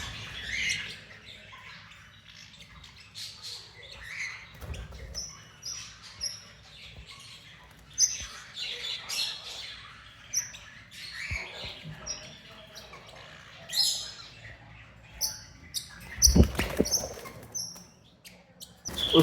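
Exotic pet birds such as rosellas, lories and African greys at a bird shop squawk and chirp in scattered sharp bursts, some louder and close, over a quiet room background.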